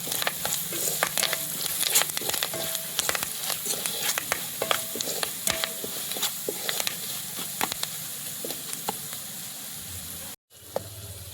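Okra slices frying in a pan with curry leaves, salt and garlic-chili masala, a steady close sizzle broken by frequent spatula scrapes and taps as the mix is stirred, with a brief drop in sound just before the end.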